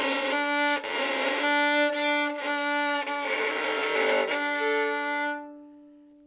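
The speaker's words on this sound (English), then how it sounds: "A scratchy sound usually comes from three things. The first one, too much pressure of the bow on the string." A beginner's violin is bowed with too much pressure on the string, giving a scratchy, raw tone in a series of sustained strokes separated by short breaks before it fades to silence.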